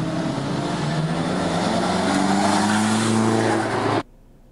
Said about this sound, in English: if you're watching cars with normal vision, you see them moving, you see motion.